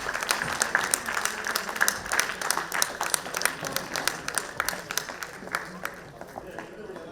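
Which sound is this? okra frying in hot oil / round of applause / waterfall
round of applause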